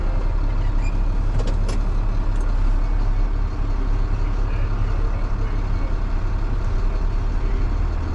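A tow truck reverses toward another truck on a town street, its loud diesel engine droning low and steady while brief high beeps and faint hisses sound early on.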